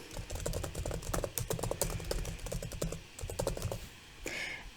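Rapid clicking on a computer keyboard while a name and a title are typed, with fast irregular keystrokes close up, continuous with brief pauses, and no talking.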